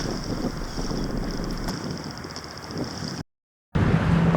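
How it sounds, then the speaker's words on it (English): Wind rushes steadily past an engineless sailing boat underway, a loud, close, continuous roar and buffet that drops out briefly before resuming. "Hope this wind just pushes us through."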